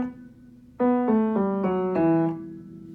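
Low piano notes step downward one after another, five struck tones in a steady descending line, played alone.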